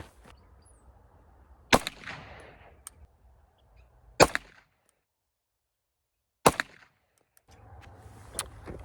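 Three sharp, loud pistol shots from a Kimber full-size alloy-frame 1911 in 9mm firing Federal 115 grain full metal jacket rounds, spaced a couple of seconds apart at an outdoor range, each with a short echo and quiet background between.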